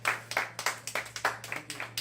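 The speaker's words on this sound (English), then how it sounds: "Give him a nice round of applause." Small audience applauding a piano player at a live show, a sparse, uneven patter of individual claps close by, with no talk.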